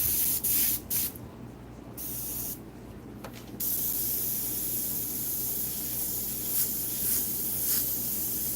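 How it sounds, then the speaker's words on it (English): Paint spray hissing steadily over a painting of ocean waves and reflections, loud and close, cutting out briefly a few times before running continuously for several seconds. "Spraying that over kind of a area that's already kind of dirty."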